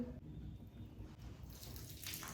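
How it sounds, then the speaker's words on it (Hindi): Water is poured from a bottle into a container as a steady, soft splashing stream that runs continuously and faintly, with no talking over it. "इसमें मैं डाल रही हूँ, यहाँ से पानी डाल रही हूँ"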